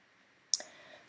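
A single sharp mouse click, close and crisp, breaks a near-silent room tone and is followed by a faint short tail.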